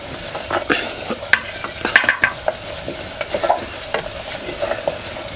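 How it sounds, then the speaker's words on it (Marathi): Grated coconut sautéing in hot oil for a tempering, cooked over a village wood-fired stove for a drumstick-pod vegetable dish: steady close sizzle and crackle with a spoon stirring and scraping the pan in uneven bursts throughout. "फोडणीत ते खोबरं जरा उशीर परतून घेतलं की नाही तेल सुटतंय"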